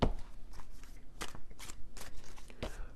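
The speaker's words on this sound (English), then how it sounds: "So I just shuffled this deck" A deck of tarot cards is shuffled by hand in repeated soft riffling bursts, about five or six quick rustles spread evenly across a quiet room with no talking.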